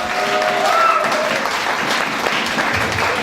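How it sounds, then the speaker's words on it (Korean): Loud, sustained applause from a crowd at a Justice Party Daejeon city founding convention, a steady wash of many hands clapping, with some voices mixed in underneath. "큰 박수 다시 한번 부탁드릴게요"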